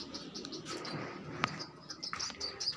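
Pigeons in a loft coo and chirp at close range over a soft, steady background of rustling and fluttering, with scattered brief calls throughout.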